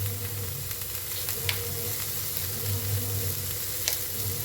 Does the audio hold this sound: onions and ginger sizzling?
yes